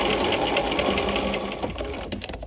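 A sewing machine runs a short, steady stitching burst on a peplum sleeve cuff, its rapid mechanical whir close and continuous before slowing and stopping near the end.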